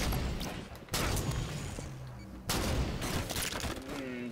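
Gunfire in Halo 5: Guardians comes in bursts: a rapid volley of shots, a short pause, then another sustained stretch of firing at moderate loudness, with a voice briefly heard near the end.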